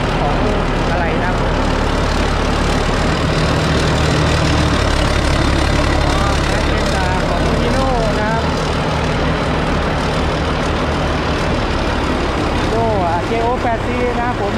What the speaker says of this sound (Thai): ออกเป็นเครื่องยนต์6สูบเนาะบวกเทอร์โบเข้าไปอ่ะ